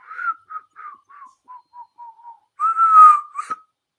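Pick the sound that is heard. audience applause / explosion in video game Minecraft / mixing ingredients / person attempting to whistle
person attempting to whistle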